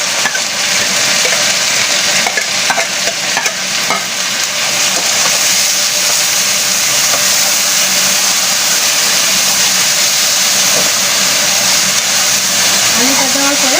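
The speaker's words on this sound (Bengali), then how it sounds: "আলুটা দেওয়ার পরে আমি আলুটা 5 মিনিট ভাজবো।" Chopped potatoes fry in a pan with browned onions, giving a loud, steady, close sizzle that crackles throughout without a break.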